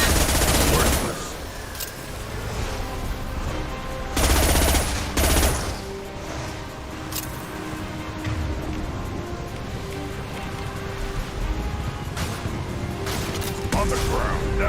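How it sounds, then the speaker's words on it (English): Heavy high-impact gunshots from Mass Effect 2 boom in loud bursts near the start and again around the middle, with game ambience and low tones humming steadily between the volleys. "Firing a high impact shot."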